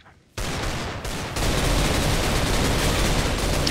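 Rapid gunfire in a Minecraft Mineplex Counter-Strike game mode: after a short quiet opening, dense bursts of shots erupt and run on continuously, loud and close, like sustained automatic fire.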